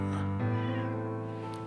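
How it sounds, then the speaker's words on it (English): A pet cat lets out a single drawn-out, close meow with a slight rise and fall, heard alone and clear. "That's my cat."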